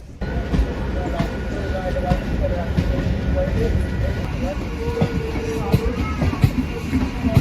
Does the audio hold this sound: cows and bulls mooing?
no